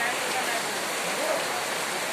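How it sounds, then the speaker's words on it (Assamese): Steady rain falls outside a market in Assam, a dense, even hiss that continues without a break for the whole short stretch. "এতিয়া ভিডিঅ'ত ষ্টাৰ্টিং কৰাৰ পৰা একদম বৰষুণটো দি আছে"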